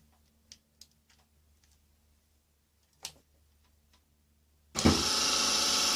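A battery-powered motor, wired straight to the battery, spins up a homemade woodturning lathe built from junk parts. A few faint ticks and one clack come first, then a loud, steady whir starts suddenly and runs on without a break.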